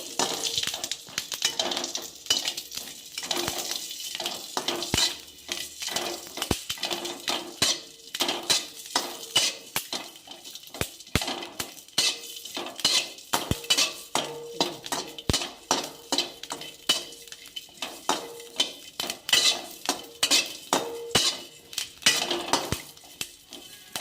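Tomato chutney with green chillies frying in a little oil while a spoon stirs it in a pan, steady dense scraping and metallic clinks in quick irregular strokes over soft sizzling, close and alone for a long stretch.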